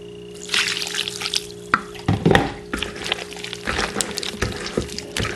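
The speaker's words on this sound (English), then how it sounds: "We're supposed to be frying it." Puff-puff dough, Cameroon style, dropping and frying in hot oil, with irregular sizzling bursts, stirring and scraping sounds close by, alone without talk.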